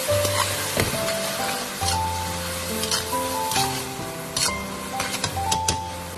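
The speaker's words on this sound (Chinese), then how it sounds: "然后将焯好水的甜豆、玉米粒、胡萝卜丁下入锅中，再快速的翻炒均匀" Sweet peas, corn kernels and diced carrots stir-fry in a wok, with a continuous loud sizzle, scraping spatula strokes and occasional metallic clinks under soft background music.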